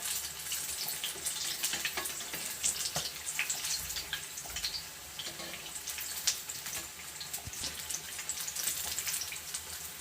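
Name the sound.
egg bonda frying in oil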